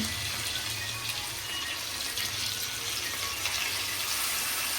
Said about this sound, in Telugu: మెంతి కూర ఆల్రెడీ కడిగేసి పెట్టాను కాకపోతే మళ్ళీ వాటర్లో వేసాను